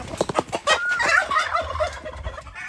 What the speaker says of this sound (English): We're fixing to take these turkeys and get them back.